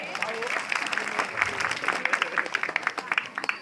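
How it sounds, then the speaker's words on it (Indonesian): A crowd applauds at a live Balinese comedy performance, with many hands clapping in a lively, uneven patter and sharper individual claps near the end, while voices and crowd murmur continue underneath. "Tepuk tangan."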